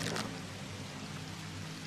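Steady rushing of running water in Luigi's Mansion 3, a soft continuous pour with a faint hum beneath, no talk.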